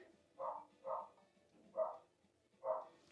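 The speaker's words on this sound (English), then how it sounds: "my brother's dogs are barking" Four muffled barks in an uneven rhythm, sounding somewhat distant and faint, as if coming from another room.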